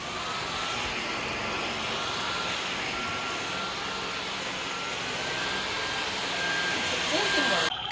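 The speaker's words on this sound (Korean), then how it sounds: "청소는 일반 바닥처럼 청소기, 로봇 청소기, 물걸레 청소기 모두 가능해요." A vacuum cleaner runs continuously over a children's foam floor mat installed in an apartment, giving a loud, steady, unbroken whoosh from start to finish.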